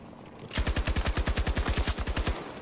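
Rapid automatic fire from an RPT-31 in Battlefield 2042, a steady burst of about sixteen loud, evenly spaced shots rattling for two seconds after a short quiet lead-in.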